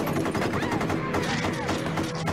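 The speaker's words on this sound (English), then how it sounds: "There was guns, there was violence!" Gunfire from a played video comes as a quick flurry of overlapping shots, fairly loud and mixed with excited voices talking over it.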